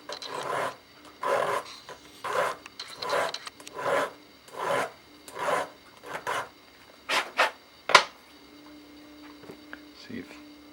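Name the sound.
hand file filing plastic pistol grip for trigger clearance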